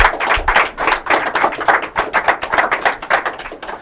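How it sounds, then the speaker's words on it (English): Steady applause from an audience for a school team at an inter-collegiate quiz and debate competition, dense rhythmic clapping in quick waves, close and loud throughout with no talk. "They deserve a warm round of applause."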